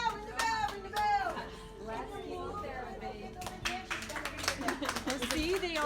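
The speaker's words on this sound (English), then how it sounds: "They're clapping already." A small audience claps in scattered, uneven bursts, loudest at the start and again toward the end, mixed with chatter and nearby voices.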